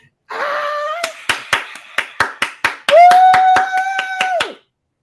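About a dozen sharp, distinct hand claps ring out in an uneven rhythm, with sustained tonal vocal sounds rising over them in the first and second halves.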